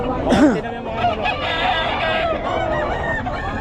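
Chickens at a market in Bocaue, a rooster crowing loudly up close near the start, followed by continuous clucking and squawking from several birds over background chatter.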